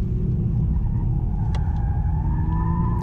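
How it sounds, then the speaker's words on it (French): A Toyota Supra with a manual gearbox runs under power in a slide, with a steady low engine rumble and a faint rising whine, close and continuous with no talking. "vous allez voir que la voiture immédiatement glisse énormément"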